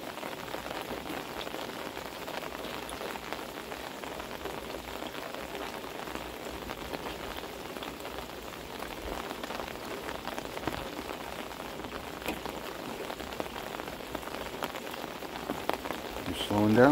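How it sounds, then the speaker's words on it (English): Heavy rain pours down on an umbrella outdoors, a dense steady patter and drumming that runs unbroken throughout, fairly close and even, with no clear voices. "even with the umbrella, I'm getting soaked"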